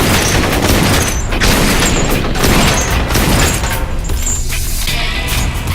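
Dense, continuous volleys of gunfire and booming blasts pound without pause in the video game Blue Estate, loud and close, with no talking.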